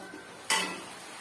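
Utensil stirring fried food in a pan, a single sudden scrape and rustle that starts halfway through and fades quickly, close and fairly loud with no talking.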